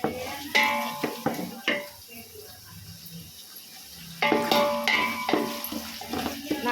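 Onions and green chillies frying in a pan for chicken biryani, with bursts of stirring, spatula clinks and sizzle, a quieter lull in the middle before the scraping resumes, close by and without talk.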